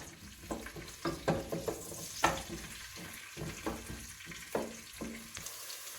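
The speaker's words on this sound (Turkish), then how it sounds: "Soğanımız pembeleşinceye kadar kavuruyoruz." Onions sauté in a pan for a minced-meat pasta dish, giving a soft, steady sizzle. Repeated clicks and scrapes from stirring land every half second or so, close and fairly quiet.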